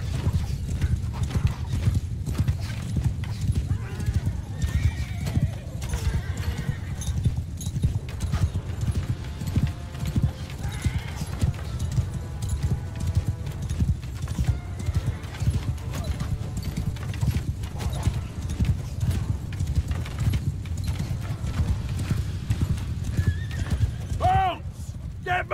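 Cavalry horses gallop in the Mount & Blade 2: Bannerlord video game, with dense, continuous hoofbeats and occasional whinnies over a busy battle din. The drumming stays steady throughout, with no voices in the clip.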